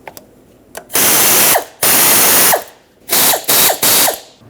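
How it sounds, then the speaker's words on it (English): A ratchet with an 8 mm socket tightens a bolt on a 1998–2011 Ford Ranger 3.0L V6, giving several loud, close bursts of rapid clicking separated by short pauses. "you can tighten it down with an 8 millimeter"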